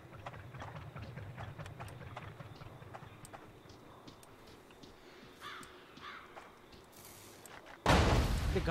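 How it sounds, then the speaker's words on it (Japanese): Footsteps in the horror video game Horrorfield, a steady run of soft repeated steps over a low rumble with game ambience, ending in a sudden loud noisy burst. "なんかこっちで足音が聞こえる。"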